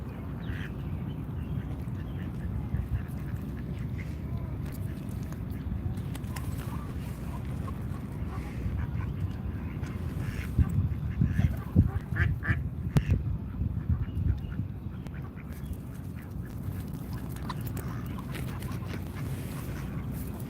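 Ducks quacking in a steady nasal chatter, mid-distance and fairly loud, with a burst of busier calls midway; a pigeon is also present.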